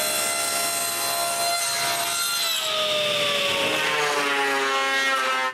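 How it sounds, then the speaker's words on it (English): A power saw rips a 2x8 length of leftover construction lumber in half lengthwise, a loud, steady, high whine with rasping cut noise that holds for several seconds, tone sagging as the blade loads, with no voices. "I rip it in half"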